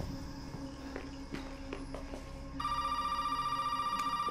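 A telephone rings in the video game Resident Evil: quiet ambience with soft footsteps, then partway through a steady electronic trilling ring begins and continues to the end.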